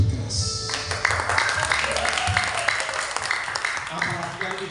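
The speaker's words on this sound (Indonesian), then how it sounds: "tepuk tangannya harus lebih keras" Applause and clapping from a congregation during a church evening prayer service, a burst of clapping mixed with voices and talk over it.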